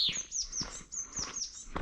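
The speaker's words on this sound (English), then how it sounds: "The birds in the trees singing away." Small birds chirp and tweet in repeated quick high calls from woodland trees, clear and fairly close, with no talking.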